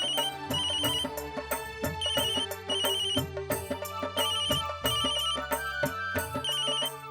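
A melodic mobile phone ringtone plays as a sister calls, repeating the same chiming phrase in a steady rhythm, clear and alone for several seconds.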